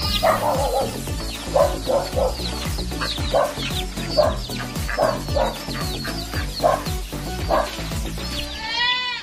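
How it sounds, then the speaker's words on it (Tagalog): Japanese Bantam breeder chickens cluck and call from their coops on a goat farm, a steady overlapping chorus of clucks and squawks with bleating-like calls mixed in, fairly close and continuous throughout. "Sa left side, yung mga kulungan ng Japanese Bantam, mga breeders natin."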